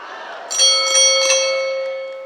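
A boxing bell ends the round during a professional fight broadcast, several bright ringing strikes that linger and slowly decay over the arena's background murmur.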